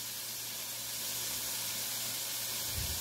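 A Power XL Stirmax multi cooker stirs a pot of creamy chicken noodle soup with carrots, giving a soft steady hiss and faint simmering bubble with a low motor hum underneath.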